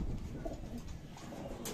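Soft, low cooing from a racing pigeon back at the loft after a 372 km derby race, a brief muffled call over faint background noise.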